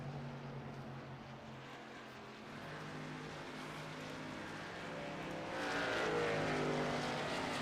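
Race cars roaring in an iRacing Xfinity Fun Series race, a steady dense engine drone from a pack of cars that swells slightly louder toward the end.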